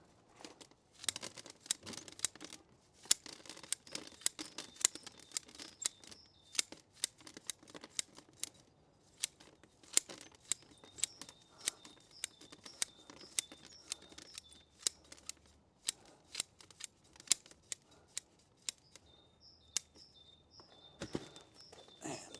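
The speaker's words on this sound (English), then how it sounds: "so I will just cut some of these corners off" Pruning shears snip corners off the root mass of an old hornbeam bonsai during repotting, sharp crisp cuts in quick irregular bursts, close and fairly quiet, with some rustling between cuts.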